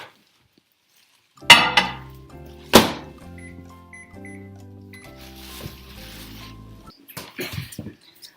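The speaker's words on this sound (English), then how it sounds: "I'm going to put this 2 cups of water into the microwave" Two sharp knocks of a cup being set down, then a microwave oven being loaded with two cups of water, with soft clatter and a steady low hum in a kitchen.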